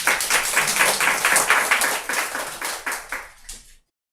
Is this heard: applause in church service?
yes